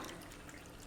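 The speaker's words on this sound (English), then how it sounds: "I'm going to now sieve my rice water." Rice water is poured through a sieve into a container, a continuous close trickling and splashing stream with no talk.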